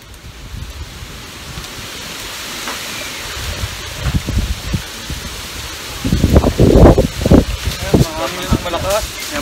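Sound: strong wind blowing into phone microphone outdoors

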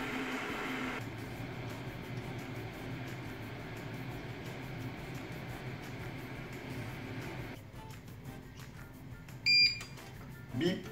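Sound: Jaren kettle beep signalling end of pasta cooking

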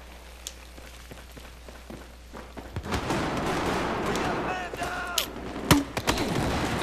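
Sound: gunfire in video game Battlefield 4

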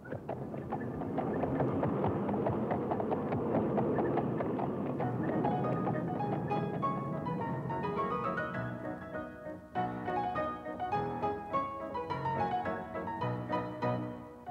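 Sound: horse hooves clip-clopping, horse-drawn streetcar

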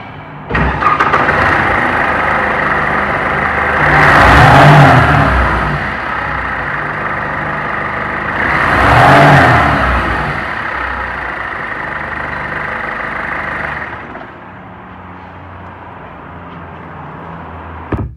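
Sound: Mercedes E-Class diesel engine running

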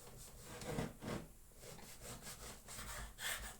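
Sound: knife slicing a long bread roll

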